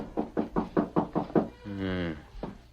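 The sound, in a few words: knock on a ranch house door in radio drama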